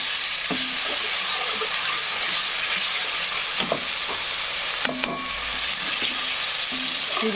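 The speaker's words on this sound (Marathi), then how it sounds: "हे आपल्याला फ्राय होऊ द्यायचं आहे" Mutton masala for a spicy mutton rassa gravy frying steadily in a pan, a continuous close sizzle with a few soft stirring scrapes and clinks.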